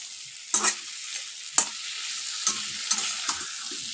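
Peas, tomato and potato pieces fry in a kadai. A soft continuous sizzle is punctuated by a few distinct spatula scrapes and stirs, heard close with no talking.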